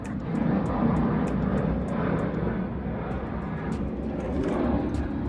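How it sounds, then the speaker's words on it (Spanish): Airplanes pass overhead with a steady, loud, droning roar of aircraft engines that swells slightly and holds throughout, alone without talking. "Que no nos dejan grabar los aviones."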